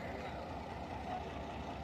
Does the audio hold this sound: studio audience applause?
no